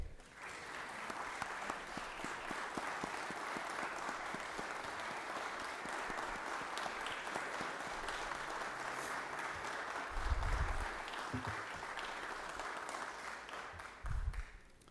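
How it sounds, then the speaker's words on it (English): Sustained applause in the Georgia state legislature chamber, a long, steady wash of many hands clapping at moderate distance with a few low thumps near the end. "I'd like to ask for a round of applause"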